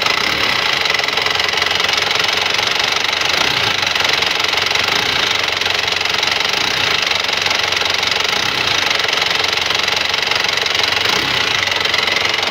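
A 2001 Isuzu Panther Touring engine idling with a rough, uneven knocking rumble, steady and close, with continuous mechanical noise and no talking.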